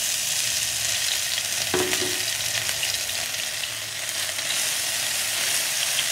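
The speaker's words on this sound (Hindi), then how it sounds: "हल्का सा घी गर्म हो गया है, अब हम उसमें ये अदरक का पेस्ट डाल देंगे" Ginger paste hits a pan of hot ghee on a gas stove with a sharp burst of sizzling, then settles into a steady, close, loud frying hiss with occasional stirring, no talking.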